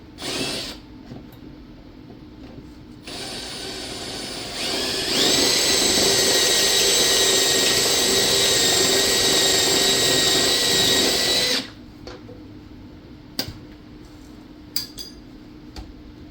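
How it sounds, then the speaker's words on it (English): An angle grinder fitted with a flap disc grinds down automotive seam sealer, a loud sustained whine that builds up and runs for several seconds, then cuts off, followed by a few scattered clanks. "And just grind that down with our flap disc or roll lock discs."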